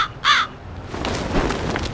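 A crow caws once, loud and close, in a Doritos commercial, followed by a rustling, noisy backdrop without speech.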